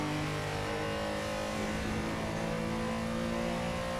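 A Porsche Carrera engine in the Assetto Corsa racing game on the Silverstone circuit, droning steadily as the throttle rolls on. The tone stays constant and buzzy and close, with no voices over it.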